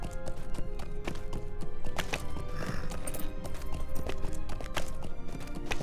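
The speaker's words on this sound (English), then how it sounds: "My horse climbs these stairs, no problem." A horse's hooves clatter up ancient stone stairs beside a long-gone waterfall, sharp irregular clip-clop strikes ringing close and loud over a steady outdoor background.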